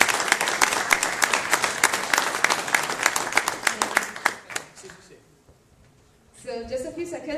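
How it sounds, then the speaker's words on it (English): Audience applause at a tech conference greets speakers taking the stage, a dense burst of clapping that fades out to near silence before a voice starts talking at the end. "A big applause to ERINDA Valentina."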